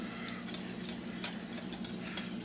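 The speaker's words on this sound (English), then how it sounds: "Okay, now finish whisking." Polenta is whisked in a pot, a faint continuous scraping swish with light metallic ticks against the pan, quiet and steady with no one talking.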